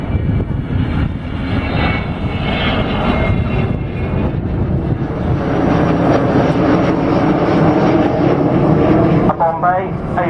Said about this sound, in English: this time the aircraft is cleaned up, and it will come down now for a good view with